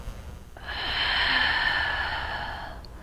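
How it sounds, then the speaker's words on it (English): A slow, deep breath taken during a stretching exercise in a golf fitness class, a single long airy exhale lasting about two seconds, close and fairly soft, with no talking over it. "Inhale and exhale."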